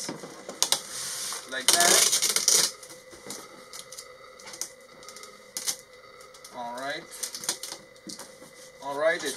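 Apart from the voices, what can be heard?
taping up a box for a prize draw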